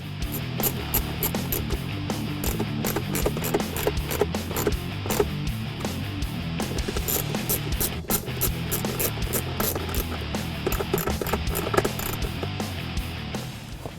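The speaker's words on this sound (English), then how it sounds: "Snap in place and install the 2 screws in the back." Screws being driven into the molded carpet trim of a 2005-2009 Mustang interior, with repeated rapid ratcheting clicks and mechanical rubbing, close and steady throughout.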